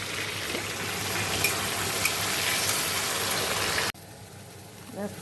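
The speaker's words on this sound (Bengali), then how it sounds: "মশলাটা আবার কষিয়ে নিচ্ছি" Masala for a jackfruit and mutton curry sizzles and hisses steadily in a hot pan while being stirred, loud and close. It cuts off abruptly near the end, leaving a quieter tail.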